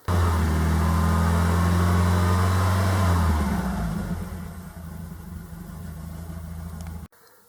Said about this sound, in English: This car has also had a bigger Weber carburetor put on it. It sounds really nice.